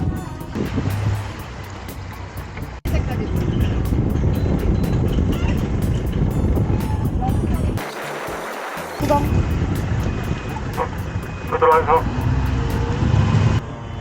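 A leisure boat's outboard engine runs steadily with a loud, continuous drone, mixed with wind and water noise and briefly cut off partway, while people talk on board near a West Sea marina.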